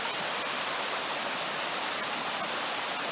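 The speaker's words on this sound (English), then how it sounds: "can just about see that waterfall across there." A forest waterfall cutting through rock roars as steady, broadband rushing water, continuous and fairly distant, with no voices over it.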